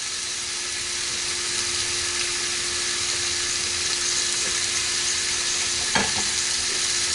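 Steak fries in a pan with a steady, close sizzle that runs unbroken throughout, while a utensil stirs it and gives a single soft knock near the end.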